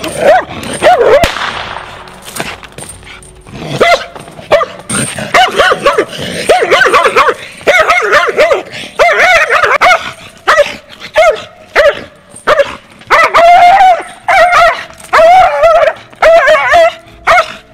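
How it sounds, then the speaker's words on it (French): An aggressive crossbreed dog barks repeatedly at close range, in sharp irregular bursts mixed with whines and yips, fairly loud. "Là, on a vraiment un chien dit agressif"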